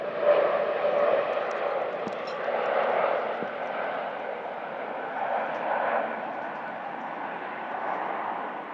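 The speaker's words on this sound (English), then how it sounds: "Another jet passes overhead." A jet aircraft passes overhead during a Finnish Premier League cricket match, a broad steady roar held across the whole stretch, moderately loud and distant-sounding, with faint crowd or commentary murmur beneath.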